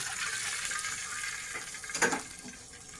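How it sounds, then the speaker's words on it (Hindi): Water is poured into hot oil in a pot while making Sindhi dal and rice, producing a rushing, sizzling hiss that swells into a brief splashing burst before settling, close and fairly loud. "इस ऑयल में मैं पानी डालूंगी।"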